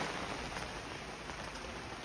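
Rain falling during the rainy season, heard as a steady, dense hiss with a gusting, wind-like roar that stays fairly constant throughout, without distinct drops or voices.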